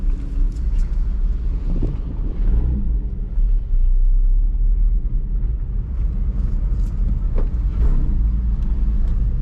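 A Porsche 997.1 sits warming up at a race track, its engine giving a steady, loud low rumble throughout with faint wind buffeting the microphone.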